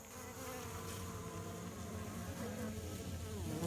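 Honey bees buzz steadily during a Layens hive inspection, a dense, continuous hum of many insects close by that grows slightly louder toward the end, with no talking.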